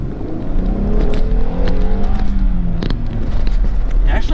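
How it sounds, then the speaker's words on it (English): A 2020 Jeep Gladiator's engine hums and pulls steadily while driving, a low continuous drone with rising and falling tones under road and wind noise, close and fairly loud. "This thing's got a nice engine note."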